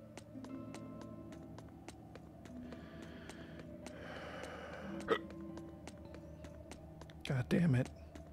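Hiccups from a character in the Tales of Berseria role-playing game, a few sharp bursts near the end over steady game music and clicking keyboard taps.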